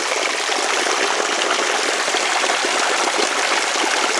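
Cold stream water at Warwoman Dell in Clayton, Georgia rushes and gurgles continuously, a loud, close, steady wash of flowing water with no voices.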